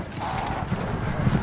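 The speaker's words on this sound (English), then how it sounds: "Horses! Horsies! Horsies to the rescue!" Horses gallop in The Two Towers, a fast rhythmic drumming of hooves over a dense battle-scene rumble, fairly loud and continuous throughout.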